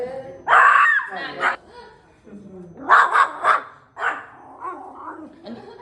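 A fierce dog in training barks loudly and close by in several sharp bursts, some clustered in quick doubles or triples, separated by short pauses.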